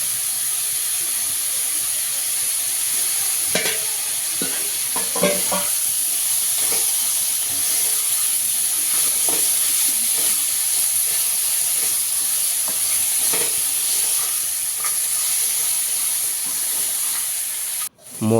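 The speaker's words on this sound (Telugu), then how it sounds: "అప్పుడే శుభ్రం చేసిన మన గోదావరి పీతలను తీసుకుని ఆ ఉల్లిపాయ జీలకర్ర ఎల్లుల్లిపాయ వేపిన దాంట్లో వేసుకోవాలండి" Godavari crabs sizzle in a pan with fried onion, cumin and garlic, a steady bright hiss of frying with occasional stirring scrapes, close and continuous throughout.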